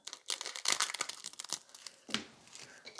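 Nail art foil is cut and handled up close, giving irregular bursts of crinkling and light tearing rustles, with a short pause before a final crisp crackle.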